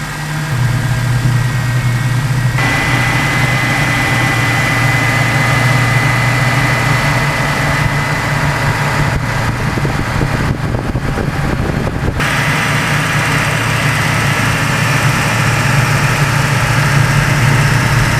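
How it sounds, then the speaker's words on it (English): Car engine held at about 1500 RPM with the throttle propped open by a screwdriver during a top engine cleaning, a loud, steady droning hum with constant vibration and no talking. "A screwdriver holds the throttle open slightly to keep the engine running at approximately 1500 RPM during this cleanup of the top engine."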